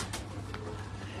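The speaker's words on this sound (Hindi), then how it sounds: "ये बहुत खूबसूरत कबूतर है, मजबूत जान कबूतर है" A pigeon coos with a low, soft, continuous murmur close by, with a couple of brief higher noises over it and no talking.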